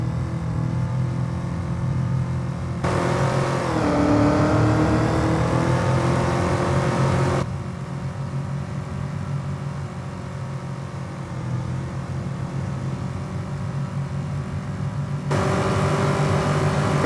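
Car engine in Farming Simulator 25, heard from inside the cabin at speed: a steady, loud drone with a rising and falling pitch as the revs shift, with no talk over it.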